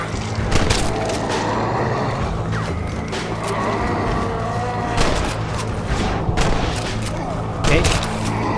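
Heavy gunfire in Red Dead Redemption: Undead Nightmare, with steady, loud bursts of shots and booms repeating throughout amid game clatter, and a voice talking over it.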